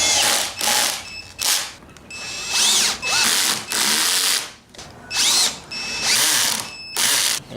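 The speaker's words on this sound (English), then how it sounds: "And I've drilled and countersunk these so I could screw these in." A power drill drives screws into walnut and cherry scrap wood, in repeated whirring bursts that rise and fall in pitch, separated by short pauses, loud and close with no talking.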